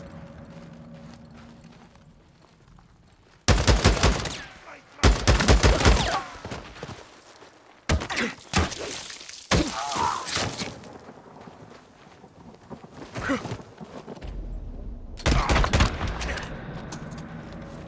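Sniper gunfire in the video game Days Gone: several loud, broadband blasts and bursts arriving in separate clusters, with rumbling and mechanical clatter between them.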